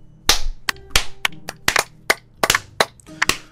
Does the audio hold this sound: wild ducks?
no